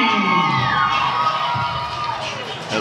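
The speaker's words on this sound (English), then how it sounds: "Crowd here in the TIW Arena, always excited to see a great wrestling match" A packed wrestling arena crowd cheers and shouts for the winner of the match, a loud continuous roar of many voices close around.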